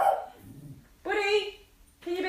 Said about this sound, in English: Now he's going to bark.